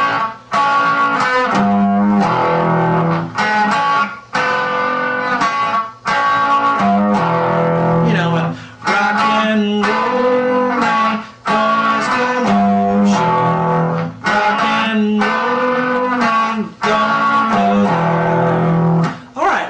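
A crunchy, lightly overdriven electric guitar plays a rock riff with steady rhythm and brief pauses between phrases, loud and close.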